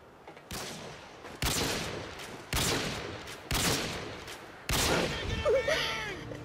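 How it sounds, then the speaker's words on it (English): Gunfire from the video game Modern Warfare 2 comes as five loud, sharply separated shots, each with a decaying tail, and a faint voice is heard near the end. "I'm shooting through four walls and still not killing you"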